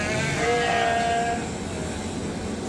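Lambs bleat repeatedly on a sheep farm on shearing day, several calls overlapping in a continuous, fairly close chorus with steady background noise.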